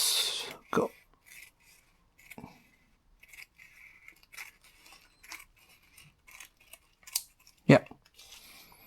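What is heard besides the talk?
cutting a nori sheet in half for uramaki sushi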